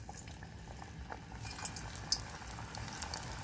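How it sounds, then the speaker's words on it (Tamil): Cauliflower 65 (gobi 65) frying in hot oil gives a steady, soft bubbling sizzle with scattered small pops, continuous and close, with no talk over it. "இப்போது நல்லா ஃப்ரையாக ஆகிடுச்சு"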